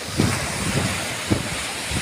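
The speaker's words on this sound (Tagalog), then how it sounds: "Kasi medyo malakas yung alon sa kabila." Strong ocean waves roar continuously on Burias island, Philippines, with low rumbling surges and wind buffeting the microphone.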